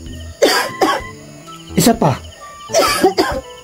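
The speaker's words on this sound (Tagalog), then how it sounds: "Umubo ka." Someone coughs on request in several short, harsh bursts, two or three at a time, close to the microphone, with brief spoken words among the coughs.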